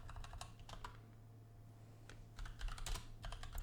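Text is typed on a computer keyboard in two faint bursts of rapid clicking separated by a short pause, heard alone over a low steady hum.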